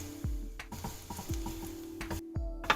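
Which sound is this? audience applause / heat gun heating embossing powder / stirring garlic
stirring garlic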